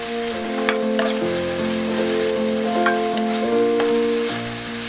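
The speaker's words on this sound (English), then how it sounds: "Add the onion to the bacon." Onion fries with bacon in a pan, a loud, steady close sizzle with occasional stirring scrapes, no voices.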